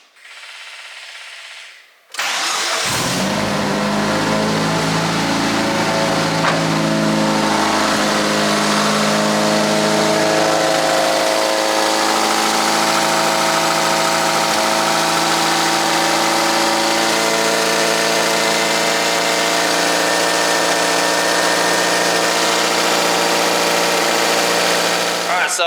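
After a moment of quiet, a Mitsubishi 4G93 SOHC turbo engine cranks and catches on its first start, then settles into a loud, steady idle that runs on without a break.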